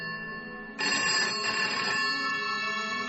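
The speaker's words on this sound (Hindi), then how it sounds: "सुबह पहुंच के वहां होटल में चेक इन किया ही था कि आनंद का फोन बजा" A landline telephone rings with a steady electronic tone that steps up louder partway through and then holds, close and alone with no voices.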